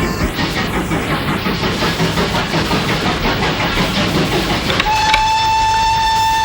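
A steam locomotive rolls along rails with a loud, steady rumble and rhythmic clatter, then a sustained shrill whistle sounds over the noise near the end.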